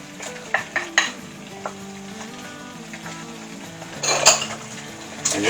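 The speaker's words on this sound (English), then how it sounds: "you just want to saute this around for a little bit, for about 3 to 5 minutes, until the onions get nice and translucent" Garlic and onions sizzle in a hot pan while a utensil stirs them, giving a steady fry hiss broken by a few sharp scrapes and clinks against the pan, close up with no talking.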